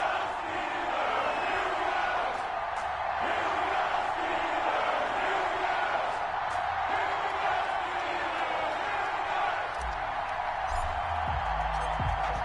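Steady roar of a stadium crowd in the Madden football video game, Los Angeles Rams against Pittsburgh Steelers at Heinz Field, a dense continuous cheering wash with a low thump near the end.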